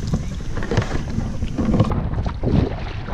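Gusty wind buffets a microphone out on the water beside a fishing kayak, making a loud, uneven low roar with surges and rumbles and no speech.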